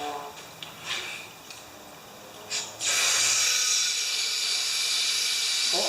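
A Yard Machines lawn mower's carburetor gives off a few brief puffs of hissing, then a loud, sustained steam hiss that carries on steadily up close.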